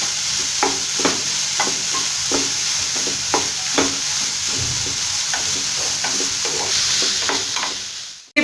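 Chopped onions and green chilies fry in a pan with a steady close sizzle, while a spoon stirs them in regular scraping strokes roughly every half second, with no talking.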